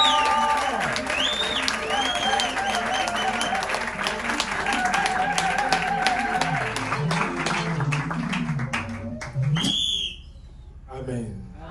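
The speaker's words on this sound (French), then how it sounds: "Vous acclamez tout ce monde, c'est trop faible." Applause from a congregation at a church celebration, dense clapping over music and singing voices throughout, cutting off near the end into a brief quieter stretch.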